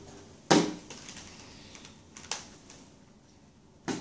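A keyboard in use with a PiPO Max-M9 Pro 3G tablet gives three sharp, separate key clicks spread over a few seconds, close by in an otherwise quiet room.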